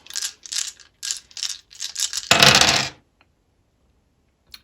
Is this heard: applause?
no